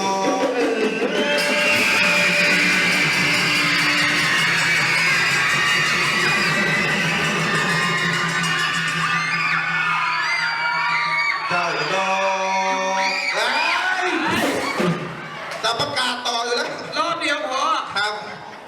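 Many schoolchildren at a camp fire scream together at full volume in a long, sustained shriek, then it breaks into scattered shouts and laughter.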